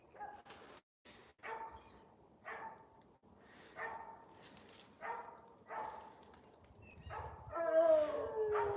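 Several dogs bark and yip in repeated bursts at moderate distance on a ranch, apparently at a squirrel up a tree, with whimpers and louder, denser barking toward the end.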